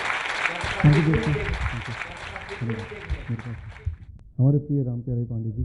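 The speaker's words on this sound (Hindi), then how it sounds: "मित्रों, एक बार जोरदार तालियां बजाएं।" Applause from an audience at a heart health talk runs under someone speaking into a microphone. The clapping is broad and moderate, then stops after about four seconds while his voice carries on alone.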